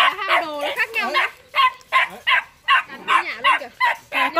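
A large Belgian Shepherd dog barks in a rapid series of loud, close yaps and woofs at a kennel, with a voice talking over and between the barks.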